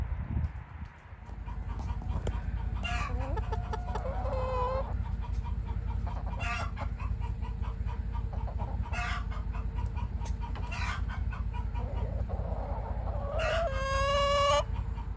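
Backyard chickens clucking and a rooster crowing, several short bursts of calls spread across a quiet outdoor background, moderately near and heard alone without talk.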